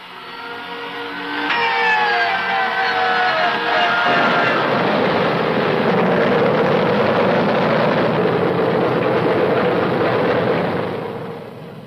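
B-29 bombers take off for a 1944 mass flight to Tokyo: a whining engine tone rises, then a loud, sustained roar of many heavy propeller engines builds and holds, swelling and fading at the end.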